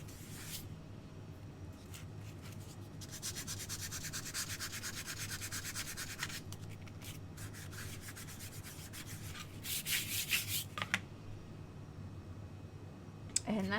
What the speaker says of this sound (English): you're just going to go through and sand all of your pieces